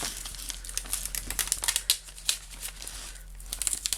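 Crinkly tearing and crackling as backing paper is slowly peeled off a transparent image sheet up close, in irregular bursts with brief pauses, fairly quiet.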